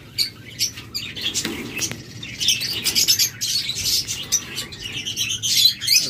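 Lovebirds at a bird farm chirp and tweet in quick, overlapping bursts, several birds calling close by over a low background hum, with no one talking.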